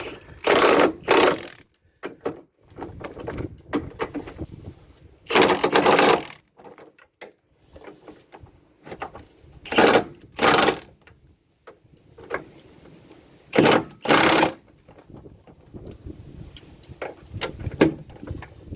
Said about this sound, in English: Turn the torque of the gun down a little bit because I don't want to snap these ones off.